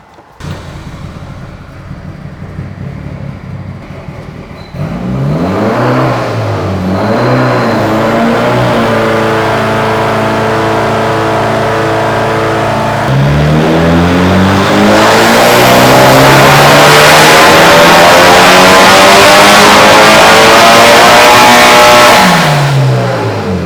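A Mitsubishi Evo 8 engine revs hard and close, climbing and falling through repeated throttle blips, then holding high sustained revs before dropping back, loud and alone.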